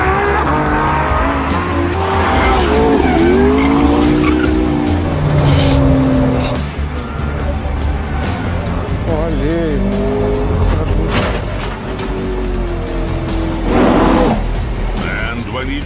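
Cars driving hard with repeated tire squeals and skids over engine noise, close and loud, with occasional voices in the background.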